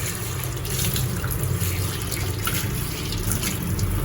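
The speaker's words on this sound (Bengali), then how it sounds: "মাছগুলো ধুয়ে নিই।" Tap water runs steadily over fish (prawns and pomfret) being washed in a kitchen sink, a close continuous splashing rush with no talking.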